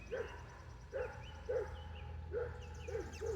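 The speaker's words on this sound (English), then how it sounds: "This dog's not nice." A dog gives a series of short, faint barks and yips, about six of them at irregular intervals, heard from some distance.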